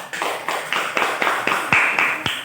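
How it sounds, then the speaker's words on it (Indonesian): Classroom applause for a student, a short burst of scattered hand claps repeating at a quick, uneven rhythm over a couple of seconds, close and fairly loud. "kita beri aplaus untuk Zakia Ramanisa."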